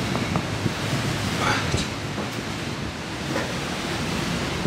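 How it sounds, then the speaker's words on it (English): Strong wind gusting through a hole in the stone walls of an old castle in Kansas, a steady loud roar and rumble inside the building, continuous for the whole stretch with no talking. "you can see, man, the wind just coming through that hole"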